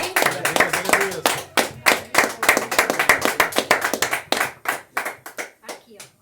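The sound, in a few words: congregation clapping in church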